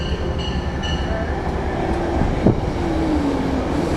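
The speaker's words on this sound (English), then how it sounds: "You catching this train. We are on the Metro North, headed to the 9/11 Memorial." A Metro-North commuter train heading toward Grand Central rumbles steadily throughout, with faint rail squeal and a brief clunk midway, heard from on board with no one talking.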